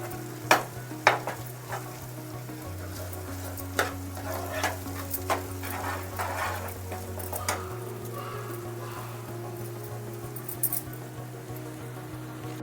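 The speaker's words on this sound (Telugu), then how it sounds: "ఇది కొంచెం ఫ్రై చేద్దాం" Ground peanut masala fries in a pan for a makhana (lotus seed) curry, giving a faint, steady sizzle. Occasional light spoon scrapes and taps sit over a constant low hum.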